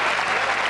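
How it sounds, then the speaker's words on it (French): Studio audience applauding Josiane Balasko on a French TV variety show, a steady dense burst of clapping throughout a short moment. "Applaudissez Josiane."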